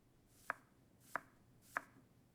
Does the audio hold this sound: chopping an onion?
yes